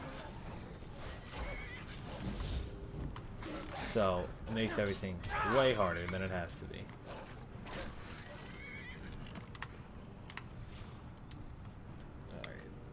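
Horse neighing and whinnying in a video game, with harmonic whinny calls around the middle and faint hoof clops, mixed under someone talking throughout.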